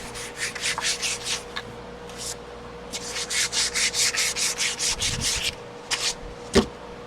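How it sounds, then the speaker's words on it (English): Rhythmic back-and-forth scratchy rubbing of sandpaper on a wooden rolling pin turning on a lathe, close up, in quick strokes with short pauses and a low hum behind. "I'll further refine this with some hand sanding"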